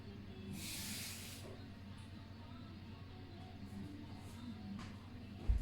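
Cooking spray hisses out in one short burst of about a second while a chocolate cake is being made, followed by quiet kitchen background with faint clinks.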